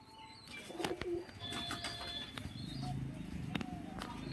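Pigeons, including a female bird, in a loft with soft intermittent cooing, light chirps and wing flutters over a low background hum, faint and close.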